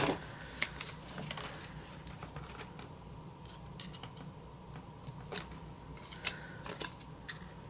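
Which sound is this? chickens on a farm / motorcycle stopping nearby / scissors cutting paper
scissors cutting paper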